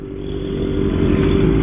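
Motorcycle engine at a traffic light, a steady, loud low rumble that builds slightly as the bike moves past nearby, with no talk over it.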